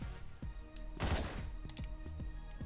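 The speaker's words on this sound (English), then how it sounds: "Nobody even heard that gunshot." A single sharp gunshot in Hotline Miami cracks out amid a rapid series of smaller clicking impacts, loud and close.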